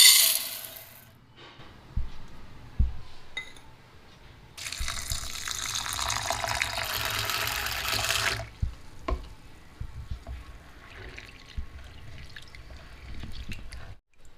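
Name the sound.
washing toor dal in water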